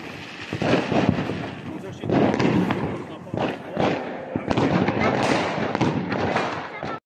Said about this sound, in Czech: Šel zapálit ohňostroj?